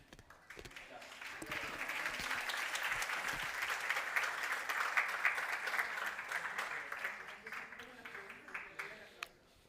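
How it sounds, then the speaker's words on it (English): Audience applause at a conference session fills the room for most of the span, a dense steady patter of many hands that swells and then tapers off near the end. "I forgot about the applause."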